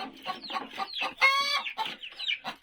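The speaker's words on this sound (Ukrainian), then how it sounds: "І є кури, які несуться, ну ви чуєте, курка знесла яйце." Hen clucking in rapid repeated bursts close by after laying an egg, joined by a brief harmonic squawk in the middle, with no talking over it.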